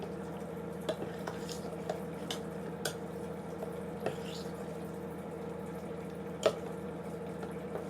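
A spoon stirs gram flour batter as water is added a little at a time, making soft scattered clicks and scrapes against the bowl, with one sharper knock near the end over a steady low hum.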